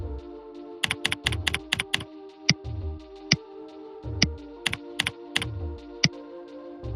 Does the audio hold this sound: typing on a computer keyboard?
yes